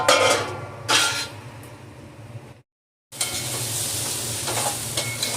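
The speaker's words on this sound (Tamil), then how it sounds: "இப்போ ஓரளவு வதங்கி எடுத்தோம். இன்னும் ஒரு 1 நிமிஷம் வதங்கட்டும்." Capsicum sautés in a pan with a steady close sizzle, broken by scraping stirs and a brief gap of silence before the frying resumes.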